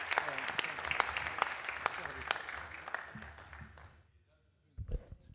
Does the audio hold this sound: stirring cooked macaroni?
no